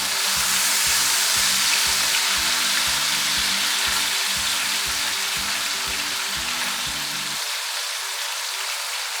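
Tomatoes sizzle and fry in a pan, a steady bright hiss with a faint rhythmic low clatter underneath that stops near the end, close and continuous with no voices.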